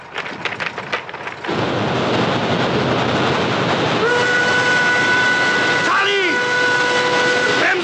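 A film soundtrack train rolls along the rails in a loud, continuous roar, then a horn or whistle sounds in sustained tones, with voices beneath.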